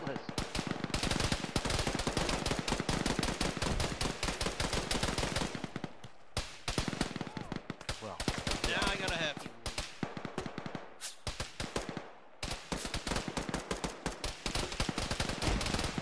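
Dense rifle and machine-gun fire rattles almost nonstop through a military shooter battle in Arma, loud close bursts with short lulls, and voices talk amid the shooting.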